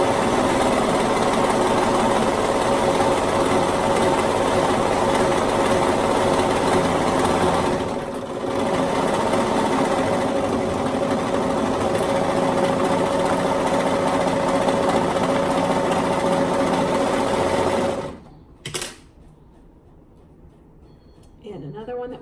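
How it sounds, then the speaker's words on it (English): A sewing machine stitches up the side seam of a tunic in a long continuous run, loud and close with a talking voice alongside, then stops abruptly, leaving quieter room sound. "We'll stitch up that side seam."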